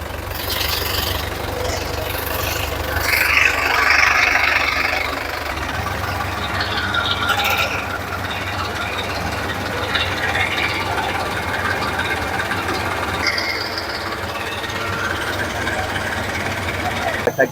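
A tractor engine idles with a steady low rumble while someone talks over it, the engine running continuously throughout.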